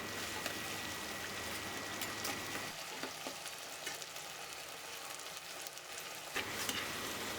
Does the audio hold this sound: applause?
no